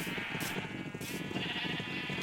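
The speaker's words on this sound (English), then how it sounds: "You might notice the sheep to the back of me." Sheep bleating in the Minecraft video game, a steady synthetic bleat layered over dense continuous game background sound, moderately loud with no voices.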